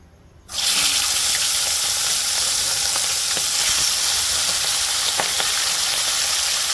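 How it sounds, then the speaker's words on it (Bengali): Chicken pieces hit hot oil in a pan with a sudden loud burst of sizzling that then holds as a steady, close hiss, broken by a few faint pops and crackles. "যে মাংসগুলো আছে মাংসগুলো ভেজে নেবো প্রথমে"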